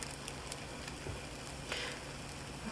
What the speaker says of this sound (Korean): 이렇게 또 지글지글 소리나 갈색 나지 않게 살짝 꺼주고